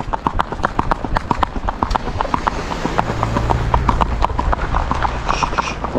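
A young Andalusian colt's hooves clip-clop on a street in a brisk, regular rhythm, loud and close, with faint talk in the background.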